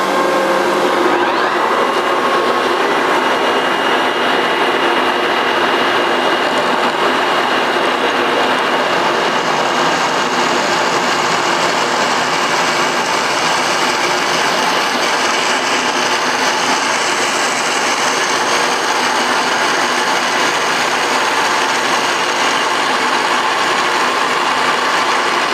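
A steady, loud grinding whir of a 26 millimeter drill bit boring into metal, continuous and unbroken for the whole stretch, with no voices.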